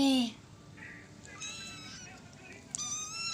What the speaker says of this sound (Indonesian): itu dia kucing aku, meow.